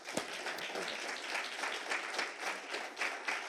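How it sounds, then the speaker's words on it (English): An audience claps for a speaker being introduced at a 2017 event, a sustained, even round of many hands applauding at moderate volume, with no one speaking over it. "let's give her a round of applause"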